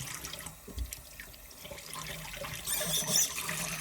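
Hot water runs from a tap into a sink, a faint, uneven splashing that swells louder toward the end, heard close with no voices.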